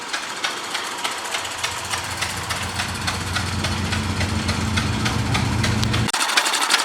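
An old Queensland-made Southern Cross stationary engine generator runs steadily with a rhythmic chuffing beat, and a deeper throbbing joins in partway through. The sound is loud and close.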